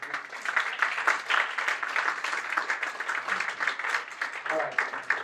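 A conference audience at an augmented reality app show keeps up sustained clapping, a little softer and more scattered than a full ovation, with a faint voice near the end.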